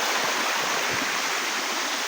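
Flowing stream water outdoors, a steady broadband rushing and gurgling that stays loud and even throughout, with no voices.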